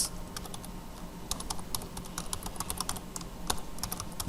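Quick, irregular clicks of keys on a computer keyboard come from Java code being typed. The tapping is close but soft and steady, with no voices.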